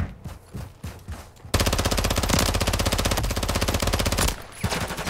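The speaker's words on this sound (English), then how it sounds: "I'm just shooting randomly" Sustained automatic gunfire in Call of Duty Modern Warfare 3 during a team deathmatch on the Derail map: a few scattered shots, then a long dense burst of rapid machine-gun fire, loud and close, ending with a couple of trailing shots.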